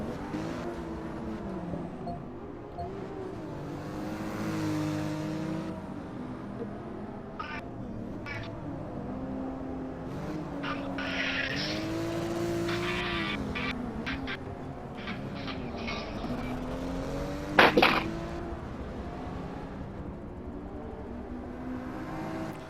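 BMW and Mercedes race cars battling in the racing game Forza 6, their engines a faint, steady, rising and falling drone with a few brief sharper bursts near the end.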